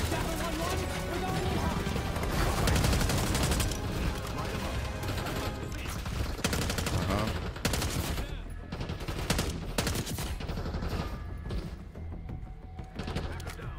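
Dense, loud rapid gunfire in Call of Duty Black Ops 6 on PS5, bursts of automatic fire and crashing impacts packed together nearly nonstop, thinning toward the end.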